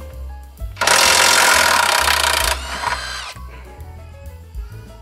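A Yasuka YIW 500CB cordless brushless impact wrench hammers loose a rusty, dirt-caked bolt in one loud, dense burst of roughly two seconds. The motor whirs briefly as it winds down, and the surroundings stay quiet before and after.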